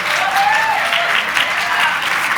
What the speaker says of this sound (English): Can you give the person on your left or your right a big, warm round of applause